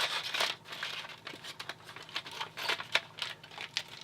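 Heavy-duty tin foil crinkling and tearing as large format film is unwrapped, a quick irregular series of close, crisp rustles and crackles.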